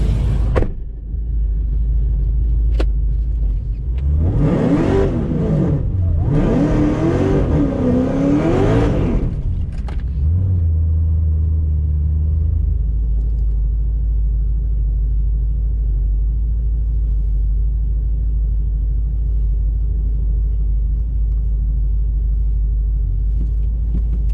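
A car on a drag racing pass, a Cadillac CTS-V or Camaro ZL1, roars through a rising, revving acceleration that peaks in the middle, then drops back to a low steady rumble with faint whirring.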